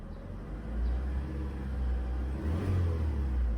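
An old city car's engine idles with a steady low rumble and whir and an unwanted noise, rising slightly in intensity near the end, close by with no talking.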